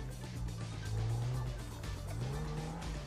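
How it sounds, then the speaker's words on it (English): A car in GTA Online drives hard with a steady engine drone, tires squealing and skidding through turns, heard alone at moderate level. "Red Leo, get in the car and drive."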